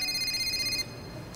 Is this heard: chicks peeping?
no